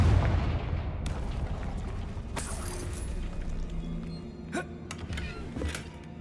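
Confringo fire spell cast in the video game Hogwarts Legacy, a heavy booming blast at the start followed by rumbling debris and several sharp cracking impacts.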